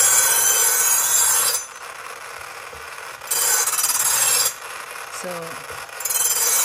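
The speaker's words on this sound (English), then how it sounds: "let me sharpen the knives that we'll be using" An expensive Japanese Shun kitchen knife sharpened on a knife sharpener, loud rasping strokes repeated in long steady passes with brief pauses between, close up, with a brief word spoken.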